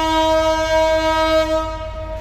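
The Ekota Express at Santahar Junction sounds a long, loud, sustained horn blast that holds steady before fading slightly at the end, with no voices.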